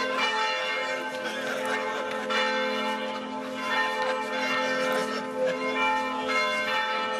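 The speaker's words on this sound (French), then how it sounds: "Et les cloches de Romans qui sont de la fête." Church bells of Romans-sur-Isère, France ring continuously during a pétanque final, with a rich, sustained metallic clang and overlapping tones, loud and steady throughout, with no voices.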